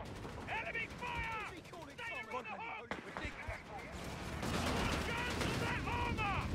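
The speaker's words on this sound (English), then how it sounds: "Enemy fire!" Gunfire in a multiplayer video game battle: bursts of shots and rumbling explosions build up under frequent shouted voice lines from the game's soldiers.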